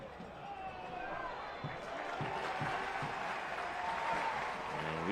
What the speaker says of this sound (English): you can hear the applause from the fans in attendance, appreciating the effort